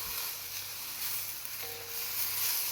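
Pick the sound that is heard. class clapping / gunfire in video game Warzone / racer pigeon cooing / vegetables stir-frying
vegetables stir-frying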